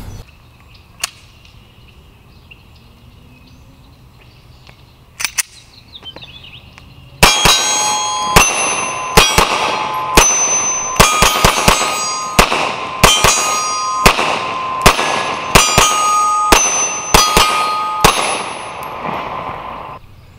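A Beretta APX pistol with a gray frame and 21-round magazine fires a string of sharp, loud shots, quick pairs and singles with ringing metallic echoes, after a quieter lead-in with a couple of isolated cracks.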